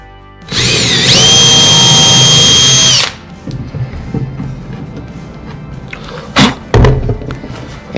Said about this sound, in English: we'll run a small pilot drill partway through the pine so it won't split